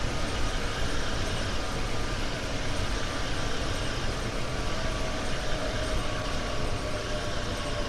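Steady rumble and rail noise of a train cab slowing under braking in the rainy Train Sim World 2 run on the RE9 line toward Köln, a continuous broadband drone with no talk.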